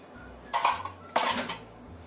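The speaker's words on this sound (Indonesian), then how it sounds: "Kemudian kita aduk sampai tercampur rata semua bahannya." A spoon clatters and scrapes against a bowl in two short bursts while flour is stirred into a snack dough mixture, close and crisp with quiet pauses between.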